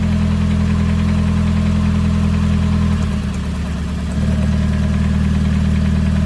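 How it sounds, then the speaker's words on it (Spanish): A car engine idling close by with one spark plug disconnected, a loud steady drone whose rhythm shifts and falters partway through into an uneven, rougher running; no voices. "tenemos que escuchar muy bien cómo va a sonar el motor después de desconectar una bujía"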